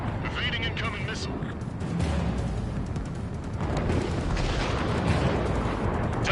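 Missile launches and explosions rumble through an Ace Combat 7 air-combat game on PS4, a dense, continuous roar with repeated bursts and booms, with voices talking over it.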